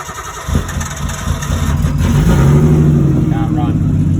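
A big-turbo drift car's engine fires up and settles into a rough, loud idle close by, with a person talking over it.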